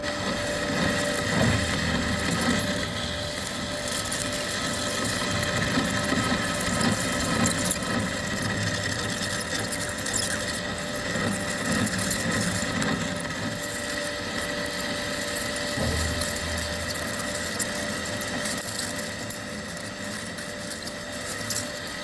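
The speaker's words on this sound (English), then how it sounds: "while I'm set up and I'm machining, I am going to machine all that out" Machining tool cuts out porous weld metal from the weld joint of a hydraulic cylinder on a CAT 24M motor grader, a steady, loud whining drone with grinding texture that runs unbroken throughout.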